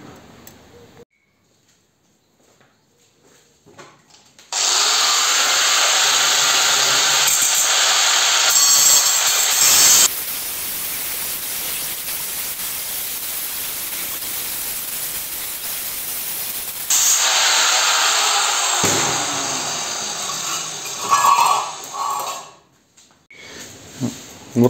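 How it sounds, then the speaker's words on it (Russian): A loud, harsh grinding whine from an unguarded angle grinder cutting metal runs steadily for long stretches, broken by a short pause, then continues before cutting off abruptly. "Эта болгарка без защиты, мужики"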